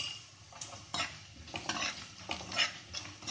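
Onions and vegetables stir-fried in a pan for a south Indian vegetable korma, with a spoon scraping and clinking against the metal at irregular moments over a low, steady sizzle, close up.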